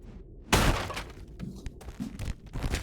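Wooden boxes smashed in the VR game Blade & Sorcery: one loud shattering crash, then scattered debris clatter and knocks that fade over a couple of seconds.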